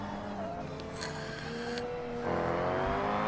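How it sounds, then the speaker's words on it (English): Race car engines in a GT racing video game drone steadily under voice chat, with whining tones rising and shifting as revs change and the sound swells louder near the end. "Discord will let the cars just drone over Discord"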